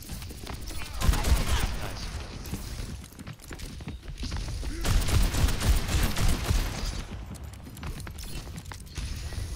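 Rapid, repeated gunfire from Ashe's rifle in Overwatch 2, sharp shots in dense bursts over a busy, loud game soundscape with footsteps and effects throughout.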